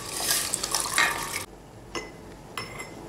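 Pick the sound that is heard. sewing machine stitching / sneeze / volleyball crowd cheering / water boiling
water boiling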